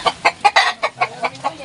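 Backyard chickens give a close, loud run of about eight sharp, rhythmic clucks in quick succession, with no talking.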